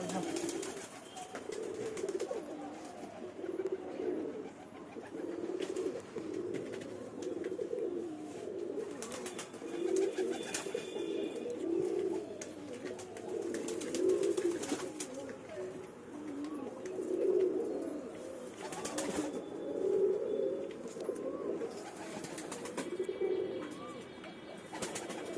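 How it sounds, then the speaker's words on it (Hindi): Pet pigeons coo continuously in low, rhythmic, throaty phrases at close range, with a person's voice occasionally heard over them. "दिखा दो फ्रेंड्स को ये कबूतर का।"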